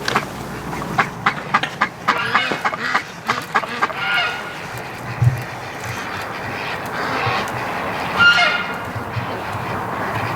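Muscovy ducks, among them a plain hen with a chocolate brown head, give a quick run of close honking calls in the first few seconds, then quieter scattered calls over steady outdoor background.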